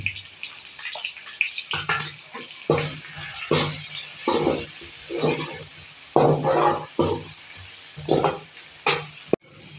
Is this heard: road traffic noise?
no